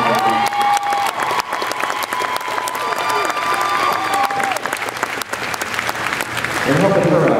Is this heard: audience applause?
yes